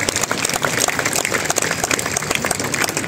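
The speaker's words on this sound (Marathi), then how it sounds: "please I request you give us thunderous applause" Loud, sustained applause fills a hall at a training camp event at a gym in Dadar, a dense wash of many hands clapping continuously throughout with no voices rising above it.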